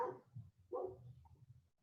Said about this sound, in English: Can y'all hear Chino barking?